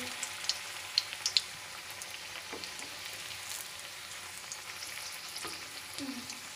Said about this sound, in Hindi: हम इनको डीप फ्राई करेंगे